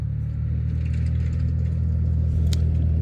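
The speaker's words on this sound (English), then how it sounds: "You will hear traffic in the background." Steady traffic noise from passing cars fills the background, a continuous low engine rumble with faint clatter, moderately loud and unbroken throughout.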